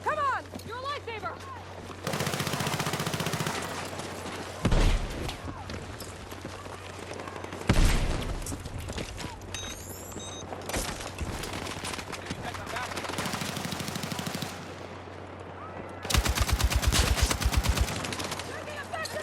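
Gunfire from the video game Battlefield 6 arrives in repeated bursts of rapid automatic fire and sharp blasts, some loud and near, others fainter, over a constant hum, with voices talking in between.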